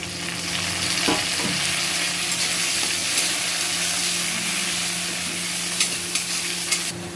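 Onions frying in oil with tomatoes about to be added, a steady close sizzle with occasional stirring scrapes, no voices, during the making of a hilsa fish curry.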